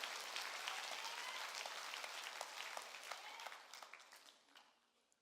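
A church congregation breaks into dense, steady applause during a sermon, a sustained wash of many hands that fades gradually toward the end, with no voices.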